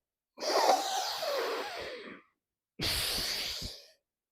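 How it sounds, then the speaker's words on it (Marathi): Two deep breaths, each a long airy exhale of about two seconds, taken close and alone during a seated shoulder-rotation exercise with fingertips resting on the shoulders. "श्वासात भरायचा आहे"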